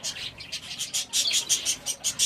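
A colony of silver Java sparrows giving rapid, high, chirping calls in quick repeated bursts, close and lively, with no talk.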